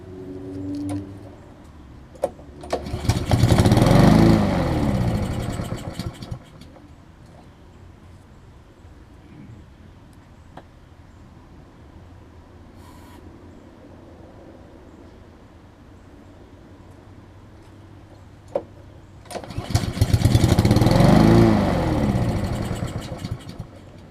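A Black Max lawn mower engine, primed with starter fluid, cranks over in two separate loud bursts of a few seconds each. A long quiet stretch between them holds only faint handling noises, and the engine never catches.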